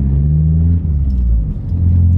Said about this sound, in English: when you are changing down into a lower gear, you have to rev match